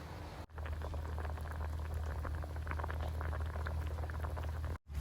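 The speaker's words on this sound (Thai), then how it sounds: "ตั้งไว้รอให้น้ำเดือดให้ปลาสุกนะครับ" Water with fish bubbling at a rolling boil in a pot, a continuous dense gurgle with a low steady hum beneath, briefly cutting out twice.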